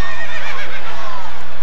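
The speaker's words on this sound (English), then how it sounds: "And then there's a horse-drawn carriage" A horse pulling a carriage through a city street on a cool night gives a loud, close neigh that rises and falls, with faint hoof clops beneath.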